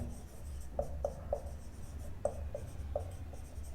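Chalk or marker writing on a board in a chemistry lecture on aldehydes and ketones: a run of short, quick tapping and scratching strokes in uneven bursts over a low room hum, with no voices.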